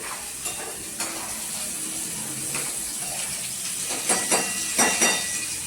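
Prawns frying over a high gas flame, loud continuous sizzle and spitting oil close by, with a run of sharp stirring scrapes toward the end and no voices.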